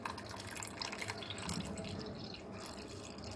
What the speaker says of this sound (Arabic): ندير نص لتر تاع حليب